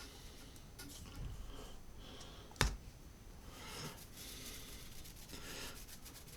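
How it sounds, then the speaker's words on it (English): A finger rubs ink into a drypoint printmaking plate, making quiet, close, irregular rubbing and scuffing with one sharp click partway through. "It'll just putting it on with my finger and just rubbing it into the marks I've made."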